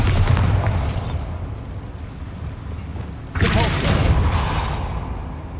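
A Bombarda spell detonates inside a small mine in Hogwarts Legacy, giving a heavy booming blast with rumbling debris, then a second loud burst follows a couple of seconds later.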